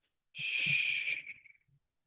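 A single slow exhalation during a guided relaxation breathing exercise comes as a close, airy, hissing breath out lasting about a second, then fades into silence.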